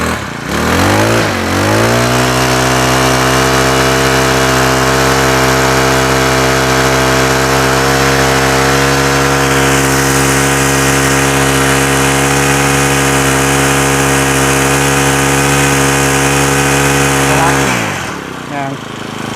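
A small Honda four-stroke lawn mower engine revs up and holds a loud, steady high-pitched drone at full throttle, over 4,000 rpm, for several seconds, then cuts back down.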